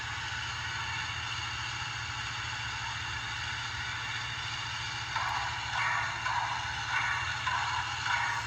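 A Broadway Limited Mikado model locomotive's sound system plays a steady engine idle, a low rhythmic chug with a faint hiss, rising a little louder and busier toward the end.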